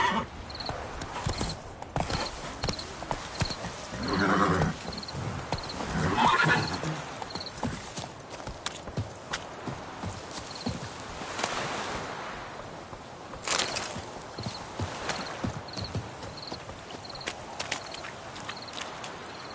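A horse from The Witcher video game whinnies loudly and its hooves clop steadily throughout, with faint surf-like ambience behind.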